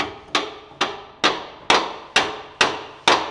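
Seven sharp, evenly spaced hammer blows ring out close and loud, each a hard metallic strike followed by a short fading ring.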